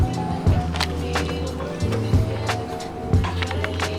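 Rhythmic rubbing and squeaking strokes of a clay bar on car paint repeat close by in back-and-forth passes, a gritty friction sound with a low drone underneath.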